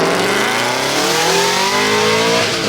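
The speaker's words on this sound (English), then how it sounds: "When this pulled in, I said it was one of the best sounding cars here, this Vantage GT8." Aston Martin Vantage GT8 launching off the start line at a hill climb, a loud roaring engine note climbing steeply in pitch as it accelerates hard, close up.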